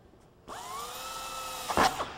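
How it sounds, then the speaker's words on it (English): A power drill with a number 30 bit spins up and whines steadily while boring a pilot hole, ending with a brief louder grinding burst as it bites through. "I'll drill it with a pilot drill"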